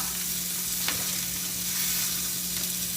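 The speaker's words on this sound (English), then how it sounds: "We're just getting a little sear on them." Thick pork chops sear in hot fat, giving off a steady, dense, close sizzle that holds level throughout with no speech.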